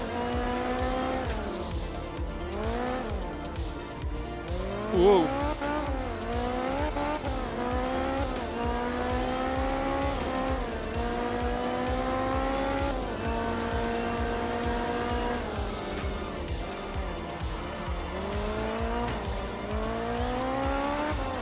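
Rally car in the Art of Rally video game sliding through tight hairpin corners, its engine revving up and down in repeated sweeping pitch rises and falls with tire scrubbing, loud and continuous, one brief exclamation from a voice.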